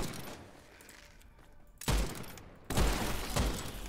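Two heavy, booming shots from the Basilisk sniper rifle in the game Witchfire, about a second apart, each a sharp loud blast with a long rumbling tail, following a quieter stretch of game ambience.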